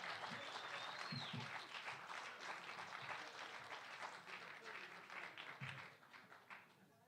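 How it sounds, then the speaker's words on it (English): Magic show audience gives Joe a big round of applause, sustained dense clapping from a room of people with a few sharper claps, tapering off in the last second. "give Joe a huge round of applause"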